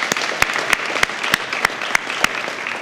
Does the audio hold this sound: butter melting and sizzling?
no